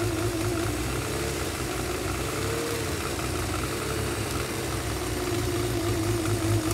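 An engine runs with a Lucas fuel injection system, giving a steady, loud, continuous drone and hum close by that holds an even level throughout, with no talking.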